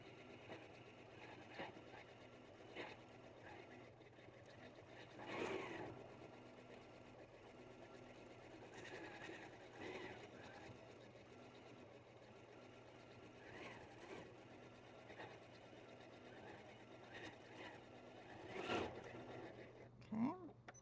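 A Janome 9480 sewing machine free-motion quilting a small stipple with automatic stitch regulation, a quiet steady mechanical whir and stitching hum with a few brief louder bursts, heard close and alone.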